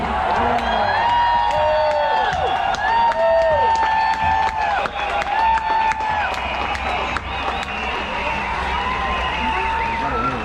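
Dense, loud applause and cheering from a crowd at a freedom march rally, with whoops and shouts layered over steady clapping and voices calling throughout.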